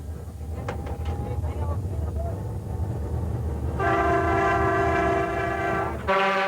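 A train in Ecuador rumbles steadily, then a loud horn blares in sustained harmonic blasts near the end, cutting off briefly before sounding again.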